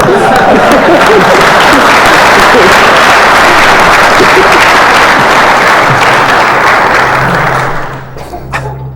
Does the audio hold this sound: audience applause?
yes